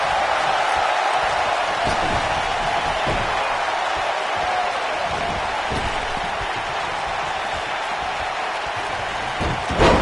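A wrestling arena crowd in WWE 2K19 roars continuously as a dense, loud wash of cheering, with occasional thuds from the ring underneath.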